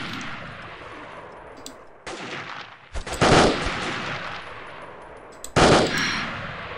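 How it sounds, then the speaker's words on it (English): Automatic gunfire in the Delta Force: Land Warrior video game: sharp bursts cut in and out over a steady rushing noise, with two loud, close volleys standing out. Passing bullets may whiz through the shooting. "Bullets whizzing through my face"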